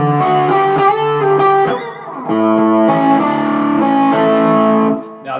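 Electric guitar with heavy distortion strumming inverted power chords, loud sustained chords struck in a steady sequence with brief breaks between them, played alone without talk.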